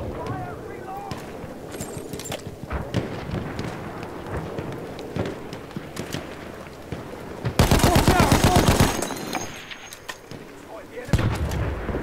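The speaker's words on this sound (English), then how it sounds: "Enemy machine gun." Enemy machine gun fire rattles in rapid bursts during a Battlefield 1 conquest match, with a loud sustained volley midway and scattered other gunfire and game noise around it.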